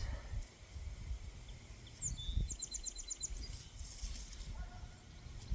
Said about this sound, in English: the birds are chirping away